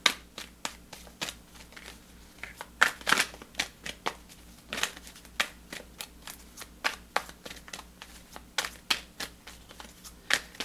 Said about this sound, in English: I'm going to get you guys a fairy oracle card.